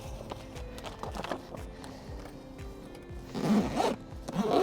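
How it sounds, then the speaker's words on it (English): Zipper being pulled closed on a fabric plant cover in a garden, a series of quick rasping zips with rustling handling noise and a louder burst of zipping toward the end. "And it zips up very easily once you get it all fitted in here."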